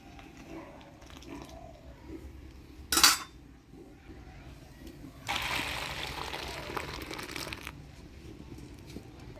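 A pot of cooked kalai lentils comes off the stove with one sharp metallic clatter, followed a moment later by a rushing hiss that lasts a couple of seconds. The room is otherwise quiet.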